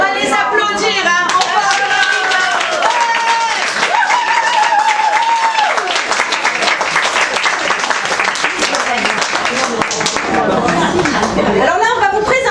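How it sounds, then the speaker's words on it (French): Audience applause after a children's theatre sketch, steady clapping through the whole stretch with some chatter and voices mixed in. "On va les applaudir"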